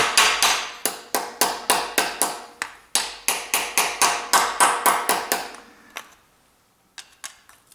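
Steady metallic hammer blows drive a knife into the cylinder head joint of a Ford Duratec engine, about two per second for several seconds, ringing up close, then stop and give way to a few scattered light taps.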